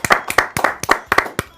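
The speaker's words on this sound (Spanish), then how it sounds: "un fuerte aplauso para ustedes" A studio audience on a TV talk show claps in a handful of sharp, close, uneven bursts, each a cluster of slaps separated by brief gaps.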